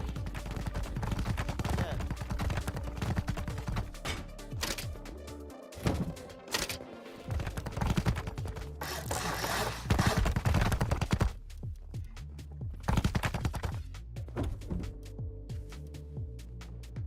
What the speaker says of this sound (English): he had a jackhammer